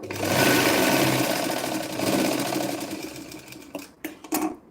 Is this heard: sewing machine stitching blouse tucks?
yes